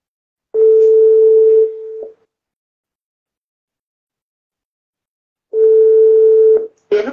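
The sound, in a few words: telephone dial tone while calling someone back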